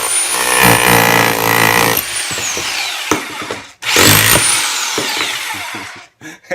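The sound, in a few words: Topshak rotary hammer drill with chisel bit breaking brick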